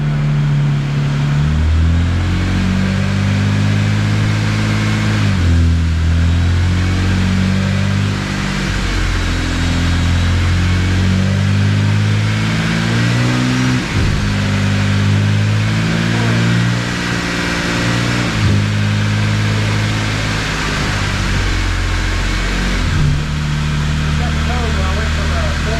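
A 2011 Subaru with an aftermarket eBay exhaust drives along, its engine droning loudly up and down through the gears, with people talking over it.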